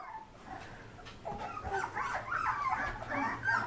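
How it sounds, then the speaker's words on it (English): Labradoodle puppies whimper and yip faintly, a soft chorus of thin, high cries that builds after a quiet start, with no talk. "Those are puppies."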